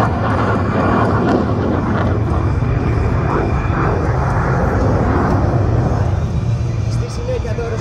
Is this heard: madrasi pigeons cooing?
no